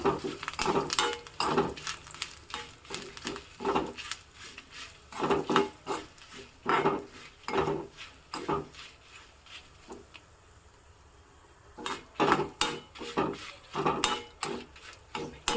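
Coriander seeds, dried chillies and curry leaves are stirred in a pan for gojju, with a spoon repeatedly scraping and clinking against the metal in irregular bursts, a brief lull, then more clattering strokes.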